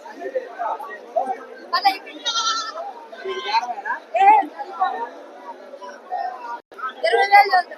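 Goats and young male kids bleating at a Nandigama market selling roosters, goats and sheep, with scattered calls rising among busy crowd chatter and someone talking over them.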